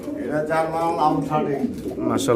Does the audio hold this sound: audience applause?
no